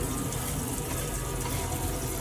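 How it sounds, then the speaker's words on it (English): Water rushes steadily from a campervan tap, with the electric water pump running underneath in a continuous, even hiss. "when you pull the tap up, the pump will come on"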